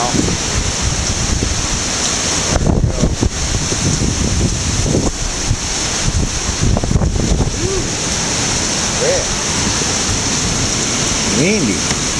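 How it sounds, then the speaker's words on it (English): Strong Hurricane Irma wind roars outside a house, a loud, steady rush with gusts swelling and buffeting the microphone. Faint voices come through briefly. "Windy."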